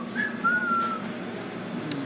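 A person whistles a few short notes of a tune, a brief thin melodic line that rises and holds over low background road noise, with no talking.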